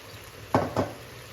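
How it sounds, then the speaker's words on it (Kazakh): Chopped onion and carrot are stirred in a pot while frying for a lecho salad, two quick scraping clanks of a utensil over a faint background sizzle. "Пиязымыз бен сәбізімізді араластырып, 7-8 минуттай уақытқа қуыруға қоямыз."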